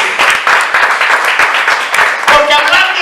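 A church congregation claps loudly and rhythmically in praise, a close, energetic burst of many hands with voices mixed in beneath the clapping.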